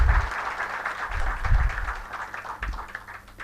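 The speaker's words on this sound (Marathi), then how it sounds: "तर एकदा त्यांच्या स्वागतासाठी जोरदार टाळ्या होऊन द्या" A crowd applauds to welcome a guest at a book-launch event, a moderately loud spread of clapping under a low murmur and rumble that rises and fades unevenly over a few seconds.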